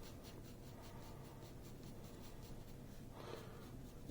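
A regular pencil makes short, light fur hatch marks on paper: a soft, steady scratching that repeats close by and alone, with one slightly louder stroke near the end.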